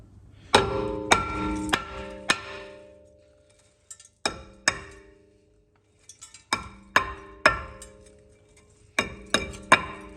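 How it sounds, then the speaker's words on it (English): Sharp metallic hammer strikes on a Volvo V40 front brake disc to free it from the hub, ringing out in quick groups of three or four, with short pauses between the bursts. "we can tap it with a hammer"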